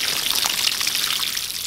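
Water splashing as sprouts and wheatgrass growing in a chicken run are rinsed, a close, steady bright trickle and spatter that runs continuously without pause.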